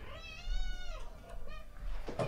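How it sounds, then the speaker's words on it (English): A pet cat meows in a room, giving a few drawn-out, wavering cries one after another, fairly close and clear, with a short noise at the end. "This cat's been driving me bonkers."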